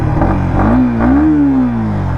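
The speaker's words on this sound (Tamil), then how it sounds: "Exhaust note மிரட்டுதுங்க. ஸ்டாக் எக்ஸாஸ்ட்டே வந்து பார்த்திங்க அப்படின்னா அருமையாக இருக்குது." A Yamaha XSR155 motorcycle with its stock exhaust idles close by, then the engine is blipped once so the pitch rises and falls smoothly before settling back to a steady rumble. The sound is loud and there is no talking.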